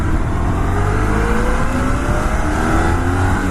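A Honda VFR1200 shaft-driven motorcycle accelerates hard, its engine loud and close with a steady rising drone that holds throughout, no voices over it.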